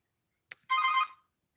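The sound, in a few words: telephone ringing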